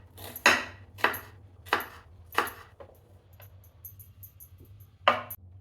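Knife chopping onion on a board, four sharp evenly spaced chops, a pause with small clinks, then one more chop, close and clear with no talking.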